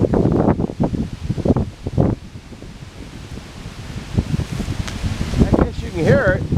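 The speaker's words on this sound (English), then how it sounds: "The wind is just ferocious here." Strong gusty wind outdoors at a firewood logging site, buffeting the microphone with rushing bursts and rustling leaves, while someone talks over it.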